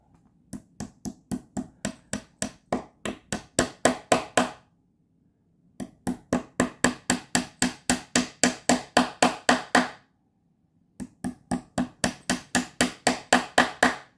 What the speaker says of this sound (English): let's get on with some nailing